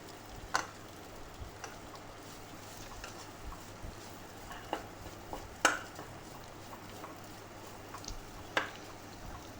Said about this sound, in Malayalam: ഇളക്കി മസാലകളൊക്കെ ആ കിഴങ്ങിൽ പിടിക്കട്ടെ. നന്നായിട്ട് ഇളക്കി യോജിപ്പിച്ച് കൊടുത്തു.